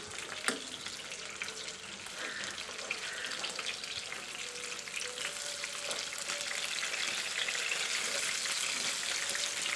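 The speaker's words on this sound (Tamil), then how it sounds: "இப்போ நம்ம சங்கரா மீனில் இந்த வறுக்கிறோம்" Sankara fish fried in a pan outdoors on a beach, giving a steady, close hiss of sizzling oil that runs without a break and grows slightly louder toward the end, with no talking.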